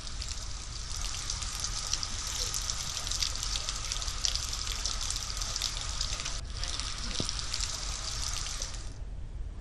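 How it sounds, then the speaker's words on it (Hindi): Rainwater pours across a road where blocked drains have overflowed during heavy rain, making a dense, continuous hiss and splash of flowing water close by that stops abruptly near the end. "बारिश का पानी नालियों के चौक हो जाने से सड़कों पर बह रहा है।"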